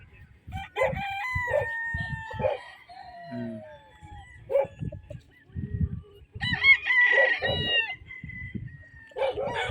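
Gamefowl roosters at a game farm crow loudly and repeatedly at close range, several overlapping calls rising and falling, between short bursts of clucking and scratchy fowl noises.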